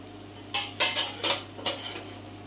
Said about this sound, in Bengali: দিয়ে যাতে ফুটে উঠবে ওই জন্য ঢাকা দিয়ে দিলাম।